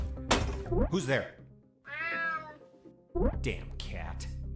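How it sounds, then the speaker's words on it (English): A cat meowing in the video game UnMetal: a drawn-out meow in the middle, framed by someone speaking close up before and after. "Damn cat."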